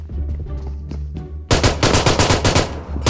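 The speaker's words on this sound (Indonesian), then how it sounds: "Mau nembak kepala tapi kena badan terus" PUBG Mobile gunfire: after a quiet stretch of low in-game ambience, a loud rapid burst of automatic rifle shots erupts at mid-clip and continues as a dense, close rattling volley to the end.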